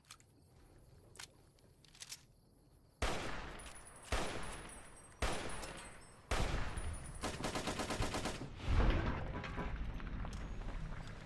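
Rapid gunfire from hollow point ammunition in the video game Fallout New Vegas, with a few quiet early shots, then loud repeated bursts and sustained volleys of shots close up, without talk.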